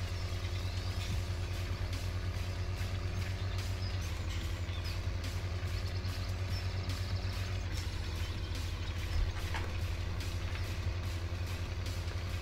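A tractor engine runs steadily in Farming Simulator, a low, constant drone with a throbbing rumble and faint mechanical rattles, with no talk heard.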